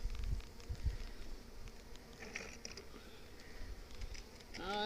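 Honey bees buzz around an open hive as pollen patties and sugar bricks are set in, a faint steady hum with scattered higher whines, a brief rustle near the end.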